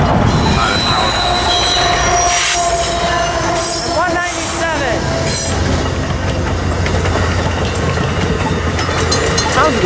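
Canadian Pacific freight train locomotives rolling past, with loud, sustained, high-pitched wheel squeal and steady rail rumble up close, plus faint rhythmic clicking from the cars.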